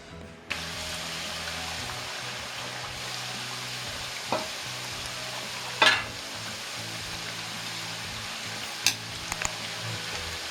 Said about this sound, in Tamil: எண்ணெய் சூடாயிடுச்சு.